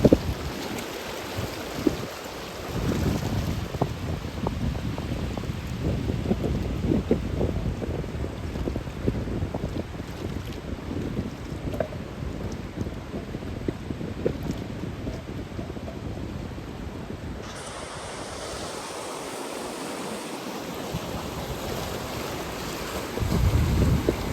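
Wind buffets the microphone over the Arabian Sea off Mumbai, with rumbling waves and surf heard from a boat, a continuous roaring wash that eases briefly before swelling again.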